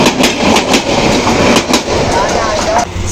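The Parbatya Express passenger train from Sylhet rolls loudly past at a railway station, wheels clattering in a rapid rhythmic clickety-clack over the rails with a dense rumbling roar, close and continuous.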